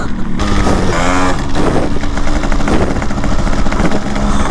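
A vintage Yamaha RX135 two-stroke motorcycle blares through its exhaust, a dense, loud, raspy drone with throttle blips, close by and filling the whole stretch.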